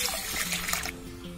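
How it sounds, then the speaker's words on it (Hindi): Toor dal is washed in water, a close, steady swish and slosh of water for about a second that then quickly fades to quiet. "इसको अच्छे से 3 to 4 टाइम हम वॉश करके 1 आवर के लिए भिगो के छोड़ देते हैं।"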